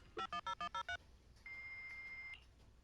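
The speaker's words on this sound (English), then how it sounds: "that data pile you hacked into just beeped" A hacked data pile in Zenless Zone Zero beeps six times in quick, even succession, then gives one longer sustained tone, clear against quiet game ambience.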